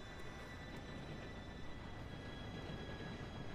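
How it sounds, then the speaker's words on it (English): Red Dead Redemption 2 train drawing near: a steady low rumble and rolling clatter of rail cars holding at a faint level, with a faint high ringing tone on top and no voices. "Here comes the train."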